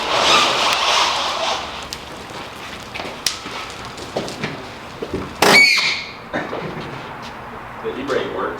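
An MG Midget's e-brake is pulled, giving a short, loud ratcheting burst midway through amid workshop clatter and people talking nearby.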